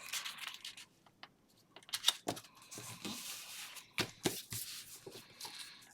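A junk mail envelope is trimmed by hand, giving quiet scattered paper cuts, rustles and handling clicks, soft and close with brief pauses between them.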